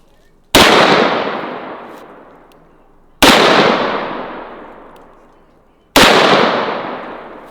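Three huge 4 bore rifle shots fired at bulletproof glass, each a sharp loud blast with a long decaying boom, spaced about two and a half seconds apart.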